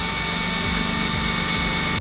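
A drill with a countersink bit whirs steadily and loudly as it countersinks an avionics panel. The close mechanical drone runs for two seconds and then cuts off abruptly, with no talk.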